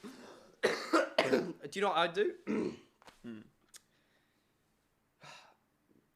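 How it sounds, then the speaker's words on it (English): One sharp, forceful cough breaks out between stretches of close conversation, followed by quieter talk and a short pause. "that was a big cough."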